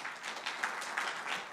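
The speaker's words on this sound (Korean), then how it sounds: "박수 부탁드립니다" Audience applause at an automotive industry strategy forum as a KG Mobility presenter is welcomed to the podium, a steady wash of clapping from a seated crowd, fairly quiet and even with no voices over it.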